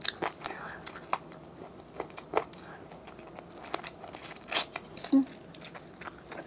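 Close, crisp crunching and biting on Chinese-style chicken bone sticks, irregular bursts of gnawing and chewing through bone and marrow, with faint murmured speech underneath.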